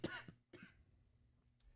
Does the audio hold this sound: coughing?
yes